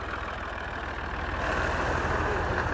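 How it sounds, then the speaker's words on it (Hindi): A tractor pulls in and idles at a roadside construction site where a shoulder is being built, a continuous low diesel chug that swells louder midway and then holds steady, close by with no one speaking. "ये ट्रैक्टर जी यहाँ पर आ गया।"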